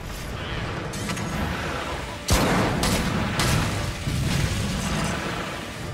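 Cluster shots are fired at a monster in Monster Hunter 3 Ultimate, giving a dense roar of booms and blasts with a sharp burst midway and several strong hits after it.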